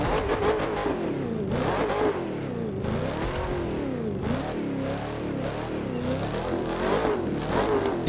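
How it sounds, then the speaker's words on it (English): A car engine in The Crew 2 racing game revs repeatedly, its pitch rising and falling in loud, sweeping waves with brief dips between gear changes, heard alone and close up. "Turn the sounds up so we can hear the engines"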